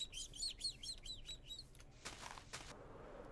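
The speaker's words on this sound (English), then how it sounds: "Oh, look, parrots." Bright, rapid parrot chirps and tweets in a video game repeat for about two seconds, followed by a couple of short flapping bursts, fairly faint against a quiet background.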